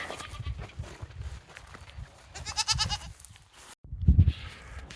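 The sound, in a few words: baby goats bleating on a farm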